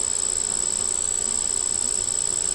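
Honey bees at an opened hive hold a steady, dense buzz throughout, with agitated colony humming and no voices.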